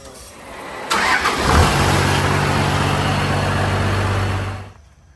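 A Cummins diesel engine swapped into a Chevrolet squarebody truck cranks and catches, then settles into a loud, steady low idle for a few seconds before shutting off.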